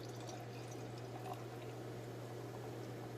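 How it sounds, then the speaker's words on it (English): Smirnoff Ice Screwdriver pours over ice into a glass, a steady, continuous fizzing and splashing heard up close for about three seconds over a low background hum, with no talking. "Let's try pouring Screwdriver Ice in there first."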